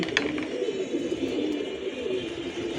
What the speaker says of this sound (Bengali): এই যে কবুতরটি নামাচ্ছি